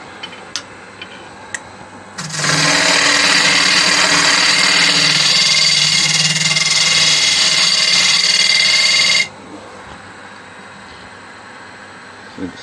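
A wood lathe turns a camera-lens clock blank while a square carbide tool cuts, a loud continuous rushing scrape lasting about seven seconds, preceded and followed by quiet workshop ticks.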